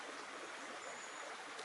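A small brook flows under a bridge in woodland, giving a steady, soft rushing and trickling wash that is fairly quiet and even throughout, with no voices.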